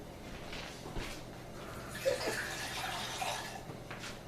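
Tap water runs into a pot being filled for boiling in a home kitchen, a soft continuous splashing and trickling at moderate level with a few brief clinks, and no voices.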